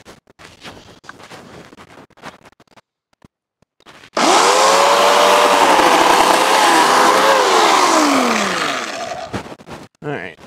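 Electric chainsaw starts with a loud whine and cuts through a fruit tree limb during pruning for several seconds, the pitch sagging as the blade bites, then winding down; quiet talk and rustling before it.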